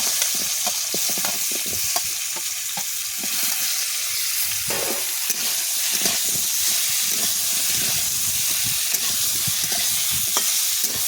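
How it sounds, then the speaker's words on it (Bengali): Fried bottle gourd and prawns are stirred in a hot oily pan in a village kitchen, with a steady loud sizzle and hiss broken by repeated scraping stirs throughout. "নেড়ে চেড়ে এবার ভেজে রাখা লাউগুলোও দিয়ে দিচ্ছি, চিংড়িগুলোও দিয়ে দেবো"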